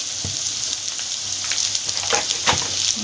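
Ground spices, turmeric and cumin powder, fry in hot oil for a Bengali katla fish curry, giving a steady close sizzle with a few sharper crackles and stirring scrapes.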